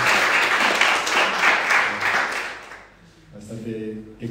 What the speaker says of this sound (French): On peut les applaudir pour.